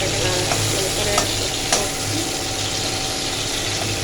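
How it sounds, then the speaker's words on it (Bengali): Ground cumin sizzles in hot oil in a pan while a spoon stirs it, a steady close frying hiss with a few scraping knocks. "অনেকক্ষণ ধরে এটাকে নাড়াচাড়া করতে হবে"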